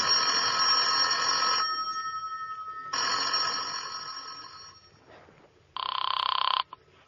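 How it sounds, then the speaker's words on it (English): Telephone bell ringing in an old-time radio drama, two long loud rings with a pause between, then a shorter third ring, close and clear with no talk over it. "It's ringing, Liz."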